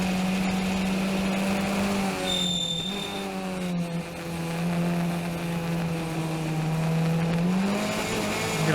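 Race car engine held at a high steady drone as the wheels ride up a curb and spin, the pitch wavering and briefly dipping before climbing again, loud and close with no talk.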